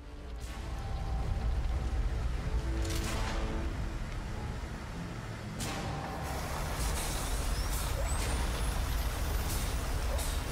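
A flatbed truck idles nearby with a steady diesel rumble, punctuated by loud hissing air brake releases, one long and another later, followed by a faint rising whine.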